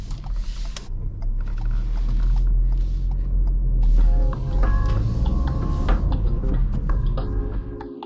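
A manual car creeps slowly with the clutch at its biting point, a steady low engine rumble with faint mechanical creaks and rattles throughout, no talk.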